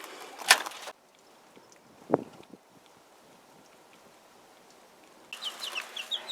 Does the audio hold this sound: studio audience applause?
no